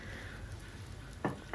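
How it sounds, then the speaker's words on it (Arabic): A spoonful of butter and a little oil sizzle steadily in a frying pan, close and continuous, with a couple of short utensil scrapes or stirs near the end. "في نفس المقله غنعاود نعمل معلقه ديال الزبده وشويه ديال الزيت"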